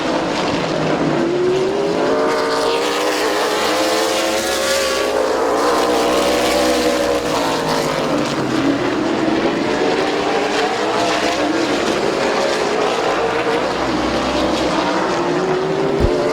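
Race cars circling the track at Midvale Speedway, a loud, continuous engine roar whose pitch sweeps up and down as cars pass close by, several engines overlapping throughout.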